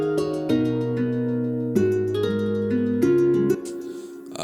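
Lead melody from a hip-hop track remake, a bright sustained synth line stepping through held notes with a few quick changes, steady and loud before dropping off near the end.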